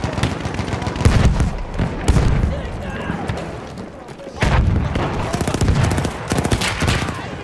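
Battlefield 1 gunfire crackles in bursts of sharp shots and heavier booms, coming in uneven clusters, with a voice speaking intermittently over the firing.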